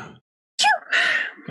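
A single sharp sneeze bursts out after a brief silence, close and loud, followed by a breathy exhale.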